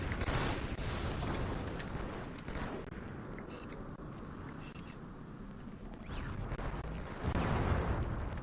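A grenade explodes in Halo 2 during a ranked online match, one of a dense run of booming blasts and gunfire that fill the scene continuously, growing louder toward the end.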